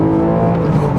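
A 2022 Porsche Cayman GTS 4.0 engine drones loudly and steadily from inside while driving, a brief continuous mid-pitched hum with no speech.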